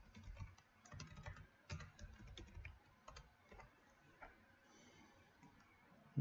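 Quiet, irregular clicking of keys as someone types on a computer keyboard, in short bursts with brief pauses, close and soft, with no speech.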